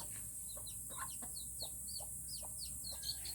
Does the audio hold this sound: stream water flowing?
no